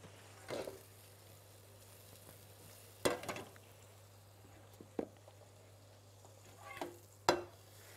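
Butter and shrimp in a hot pan for rice with shrimp, a faint low sizzle with a few sharp clatters and scrapes of stirring, no talk.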